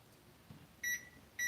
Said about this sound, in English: I'm setting a 20-minute timer for the cake and a 5-minute timer,